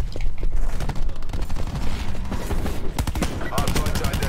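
Rapid automatic gunfire from a gun in a Call of Duty-style hardpoint match, with dense bursts of shots and booms packed close together throughout, loud and near, with a voice mixed in.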